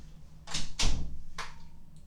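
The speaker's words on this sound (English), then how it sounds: "Let me shut my door real quick." A room door is pushed shut with a couple of quick thuds and a latch click, close and moderately loud, followed by a brief faint tone in a quiet indoor space.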